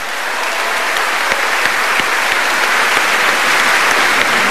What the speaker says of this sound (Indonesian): Mahfud MD, tepuk tangan dong.